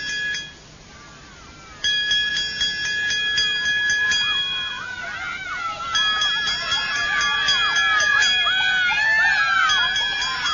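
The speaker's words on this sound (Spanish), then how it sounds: "Comenzó con una campanilla." A small hand bell rings repeatedly to announce a class in India, bright metallic peals chiming in bursts over a crowd of shouting children nearby.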